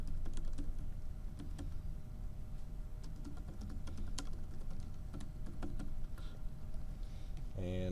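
Fingers type on a computer keyboard in a steady patter of quick, close clicks that runs without a break, with no one talking.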